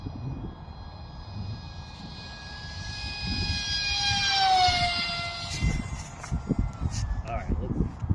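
A model pusher airplane's small engine whines overhead in flight before landing, its pitch sliding as it passes and swells louder, then fades, with someone talking over it.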